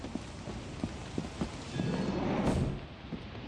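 Rain weather in the video game Lethal Company makes a steady hiss of falling rain, swelling into a louder, rumbling wash midway before easing back, with no talking.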